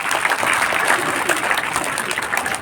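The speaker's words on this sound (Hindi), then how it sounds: "ज़रा ज़ोरदार तालियों से।" An audience at a school Independence Day ceremony applauds loudly in a dense, sustained burst of clapping that carries evenly from start to finish.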